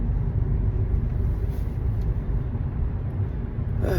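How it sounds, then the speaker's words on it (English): A garbage truck rolling through a red light in city traffic, its engine a steady, loud low rumble close by, with a brief rise in noise near the end. "This friggin' garbage truck who rolled through the red light"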